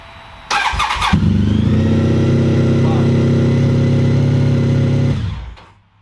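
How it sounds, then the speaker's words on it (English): A Honda ST1300 motorcycle engine cranks briefly, catches and settles into a loud, steady idle close by, then cuts off and fades near the end. "So I started up the bike."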